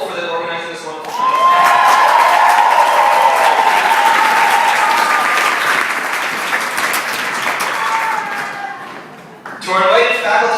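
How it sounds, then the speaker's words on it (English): Audience applause at a graduation ball, a loud sustained wave of clapping lasting several seconds before tapering, with talk and voices heard at the start and end. "So I think we need to give a round of applause to Nicole for organizing this wonderful thin"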